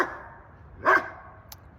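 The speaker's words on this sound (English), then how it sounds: "you have to excuse Oasis barking" A dog gives a single loud bark, followed a moment later by the start of another, with quiet between them.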